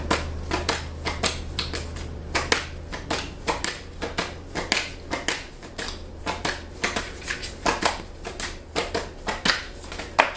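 Tarot cards are shuffled by hand in rapid, uneven bursts of crisp riffling and flicking, close and fairly loud, over a steady low hum, with no talking.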